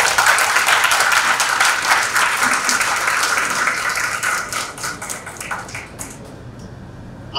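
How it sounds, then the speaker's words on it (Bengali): Audience applause for two guests at a Bengali director-to-director conversation event, a steady dense clapping that fades toward the end, with faint voices underneath. "একটা দুজনের জন্য হাততালি ওদের প্রাপ্য।"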